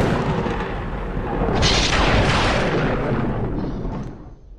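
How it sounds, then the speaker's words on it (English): A super lightning strike in the Roblox game Tornado Destruction Simulator hits as a broad, roaring crackle that swells into a long rumbling blast, then slowly fades, loud and with no voices over it. "Super lightning is pretty crazy."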